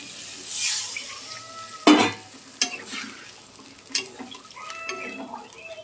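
Liquid for a fish curry poured into well-fried spices in a pan, giving a sudden sizzle and hiss with a few utensil clinks, fairly close and moderately loud, with no speech.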